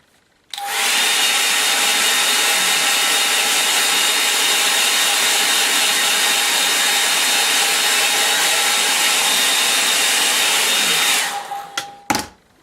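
A hair dryer blows steadily and loudly at close range over a watercolour painting of figures on a dune, holding an even whine for about ten seconds before clicking off.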